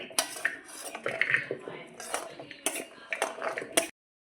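Pieces of jackfruit are moved by hand into a pressure cooker with a run of metallic clinks, scrapes and knocks of utensils against the pot, close and irregular, stopping abruptly.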